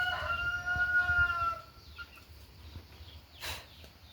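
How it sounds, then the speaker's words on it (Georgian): Backyard chickens sound off close by, with a rooster's drawn-out crow in the first second and a half, then scattered soft clucks and a brief rustle over a low background hum. "ქათმები უჭამს პატარა ძიძილების საჭმელს"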